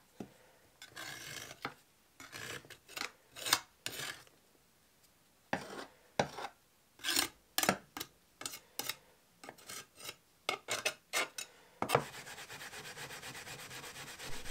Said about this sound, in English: I'm using wire wool with soap inside and just to scrape off all the loose paint